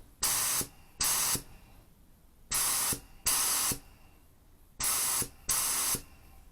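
An Iwata LS400 Series 2 spray gun fires short, loud hissing bursts of spray, six in all, grouped in pairs with quiet gaps between them.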